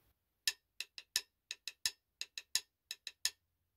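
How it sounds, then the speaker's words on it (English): Steady straight hi-hat pulse in the straight-eighth version of a jazz ride pattern, with crisp, evenly spaced closed ticks played alone with no other instruments. "one that I like to use is basically the straight version of the jazz ride pattern"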